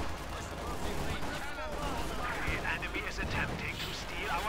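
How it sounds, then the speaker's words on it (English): Submachine gun fire and Molotov bursts in the real-time strategy game Company of Heroes 2, a dense, continuous battle din of crackling gunfire and booms heard under a commentator's voice. "There we go, Molotovs and submachine guns up close."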